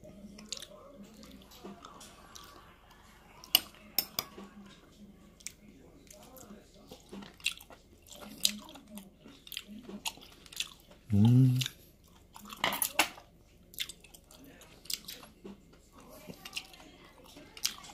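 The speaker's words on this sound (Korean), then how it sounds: "머리 부분을 먹어보겠습니다." Wet chewing and biting on a boiled octopus head, soft squishy bites and smacking close to the mouth, with one louder burst partway through, scattered through otherwise quiet stretches.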